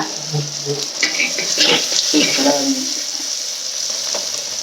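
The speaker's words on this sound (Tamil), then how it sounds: "தக்காளி தக்காளி வதங்கட்டும் நல்லா வதங்கிடுச்சுப்பா" Tomatoes sauté in a pan for a ground-masala koduva fish curry, giving a steady close sizzle with soft stirring and clinks, and no one talking over it.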